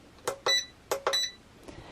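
Electronic beeps from the control panel of a Go2Craft tumbler press, four short bright tones in two quick pairs with a faint fifth at the end, clear and close over a quiet background.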